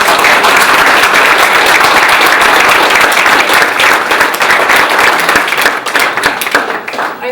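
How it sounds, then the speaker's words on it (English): Loud, dense applause from an audience at a city council meeting, sustained clapping from many hands that thins out and fades toward the end. "please, a hand of applause for all of us"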